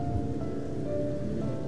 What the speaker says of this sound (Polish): kiedy pada deszcz